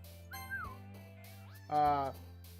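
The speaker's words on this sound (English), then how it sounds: "Brief whistle. I just whistled." A brief human whistle: a short rising-falling whistled note, then a second short whistle with a louder buzzy tonal burst, close and alone over a faint steady hum.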